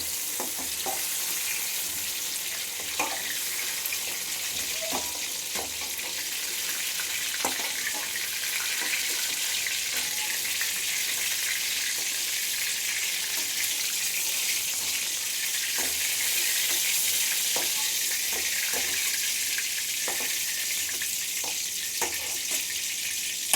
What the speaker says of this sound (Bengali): পটলটা আমার ভাজা ভাজা হয়ে এসছে।